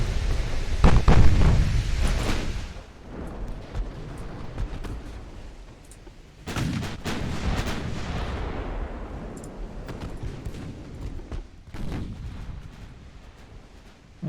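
Heavy 9-inch naval guns fire in a dreadnought-era battle game, booming blasts with deep rumbling tails: one large salvo early, another around the middle, and a third near the end, each rolling off slowly.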